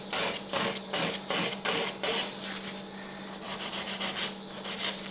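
A nail file rubs back and forth across a fingernail while shaping it square, giving a close, steady series of scratchy strokes in an even rhythm, with no talking.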